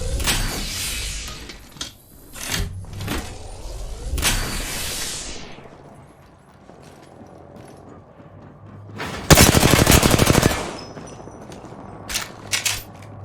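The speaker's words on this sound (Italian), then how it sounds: "Mi stanno sparando." Apex Legends gunfire comes as scattered sharp shots and short bursts, then a dense rapid volley near the middle, with game mechanism clicks and rumbles between them.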